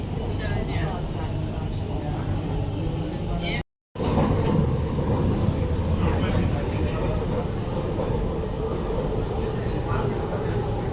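A metro train rumbles steadily inside the carriage, a continuous low roar with a brief cut, while an announcement voice in Kannada speaks over it, approaching Dasarahalli station.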